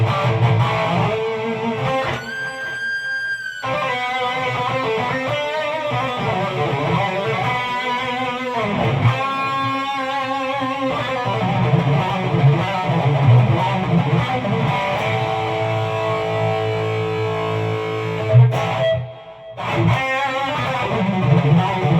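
Electric guitar played through an amp's Ultra Channel with higher gain and volume, a sustained distorted tone with chords and ringing single notes, continuous and loud with a brief dip near the end.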